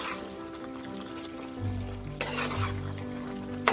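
Green chilies drop into a pan of simmering spinach chicken, with a steady low bubbling sizzle and soft stirring throughout, plus a brief louder splash of sizzle midway.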